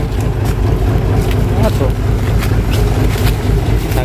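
A boat motor drones loudly and steadily, a dense low rumble with wind buffeting the microphone throughout.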